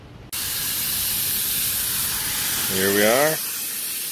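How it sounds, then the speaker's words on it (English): A high-pressure spray hisses steadily against the coil of a Carrier package air-conditioning unit that is not cooling, blasting off caked gunk. The spray starts abruptly and stays loud and close, and someone speaks briefly over it near the end. "I'm gonna spray it down and get as much gunk off there as I can before I do a chemical soak on it."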